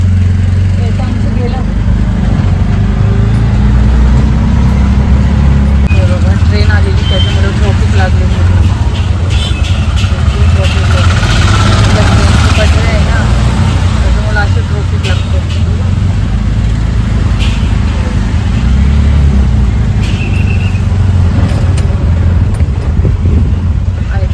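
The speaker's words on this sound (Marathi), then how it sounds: "आपल्याला रिक्षा भेटलेलं आहे" An auto rickshaw engine runs steadily through the ride, a loud continuous low rumble with road noise and occasional voices talking over it.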